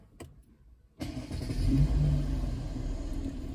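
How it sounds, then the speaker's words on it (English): After a moment of near quiet, a car engine cranks and catches, then settles into a steady, low rumbling idle close by. "So if I start the engine"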